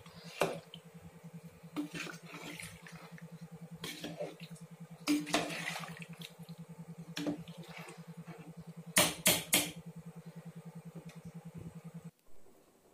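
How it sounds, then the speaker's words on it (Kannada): A biryani mixture with water being stirred in a pot in a village-style kitchen, a spoon scraping and clinking against the metal in irregular knocks over a steady low hum, with a few sharper clatters. "ಸೊ ಈಗ ಮಿಕ್ಸ್ ಮಾಡೋಣ."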